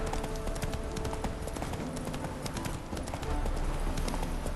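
A horse gallops in The Witcher 3, its steady clip-clop hoofbeats running continuously and fairly loud over a busy game soundscape.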